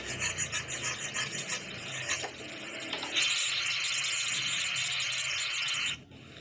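Rasping, scraping strokes as a motorcycle spoke is cut down into a pin for a shock absorber repair, rhythmic at first then a steadier grinding, close and fairly loud before stopping abruptly.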